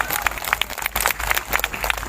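Brief applause from the crowd at an Islamic religious lecture (pengajian) in Java, a dense, uneven burst of many hands clapping across two seconds.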